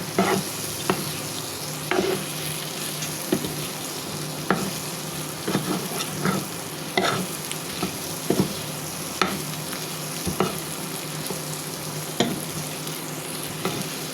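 Shrimp cooking with turmeric, chili powder, garam masala and ginger-garlic paste in a pan, a loud constant sizzle punctuated by regular scraping clicks of a spatula stirring, close and unaccompanied by speech.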